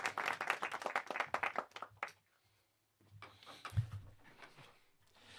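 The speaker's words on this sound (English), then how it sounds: "This little iPad up here does hand claps for me." Hand clap sound effect played from an iPad: a quick run of crisp, evenly spaced claps for about two seconds, then a short silence and some quieter, scattered noises.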